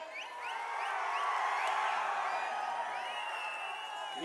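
Large outdoor crowd at a political rally in Pudukkottai roaring and whistling in a sustained, distant wash of cheering, with shrill whistles rising above it.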